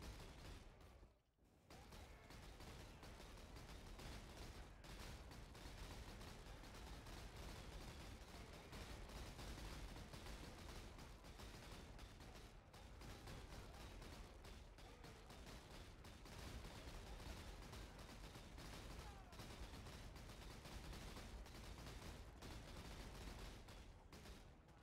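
Gunfire from Zeri shooting in a video game, a dense, continuous crackle of rapid shots over about twenty-five seconds, fairly faint and unbroken apart from one brief gap near the start.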